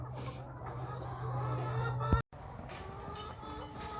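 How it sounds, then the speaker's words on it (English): Two Leghorn chickens cluck softly and fairly far off on a farm during evening chores, with one short knock partway through. "there's my 2 goofy little leghorns that I gotta get back in here"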